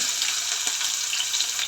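Sliced onions sizzle steadily in hot oil in a pan for an egg curry, a dense, even frying hiss with faint crackles throughout and no voices.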